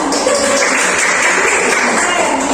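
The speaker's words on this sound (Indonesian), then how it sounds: "Tepuk tangan." A classroom group clapping together during a guidance counseling session, a brief, steady burst of many hands that fills the room at close range.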